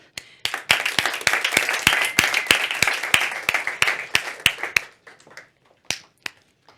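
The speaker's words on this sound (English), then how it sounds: "Let's make a big applause to those great three speakers." Audience clapping for three panel speakers at a startup conference session, a fairly close run of distinct, evenly spaced claps that tapers into a few scattered claps near the end.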